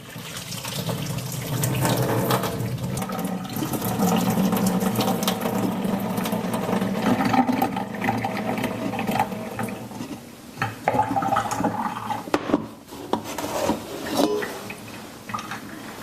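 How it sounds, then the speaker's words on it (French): Water poured off boiled potatoes into a kitchen sink while making pâté chinois, a steady close splashing and rushing flow for about sixteen seconds with brief clatters near the end, no talking. "Fait que je vide l'eau ici."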